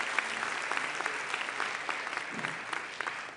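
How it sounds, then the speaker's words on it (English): Audience applause for panelists at a One Health summit in Lyon, a steady wash of clapping at moderate volume throughout with a brief voice in the middle. "Please join me in giving them a real great round of applause."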